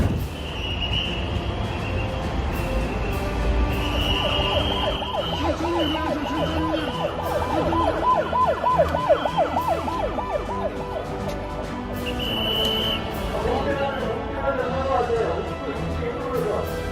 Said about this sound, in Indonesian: suara ambulans di mana-mana